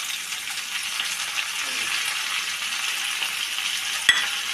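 Finely chopped amaranth leaves sizzle and fry in a pan with onion and curry leaves, a steady close hiss throughout with a sharp clink near the end.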